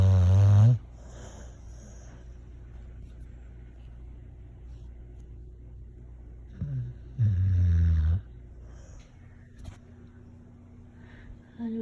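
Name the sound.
dog snoring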